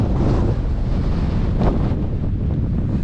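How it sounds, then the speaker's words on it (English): Strong wind buffets a microphone on the winter summit of Hart Crag in the Lake District, a steady, loud roaring rush with gusty swells throughout and no voices. "And it's still fairly windy"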